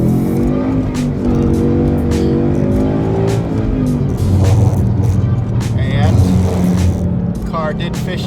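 A Ford Mustang GT 5.0 V8 engine revs hard as the car accelerates and fishtails, its pitch climbing and dropping through gear changes, loud and close with a brief tire squeal.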